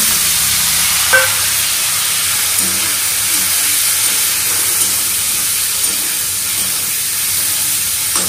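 Turmeric and spices fry in a wok over high gas heat, a loud, continuous hissing sizzle close by with a few faint knocks from stirring.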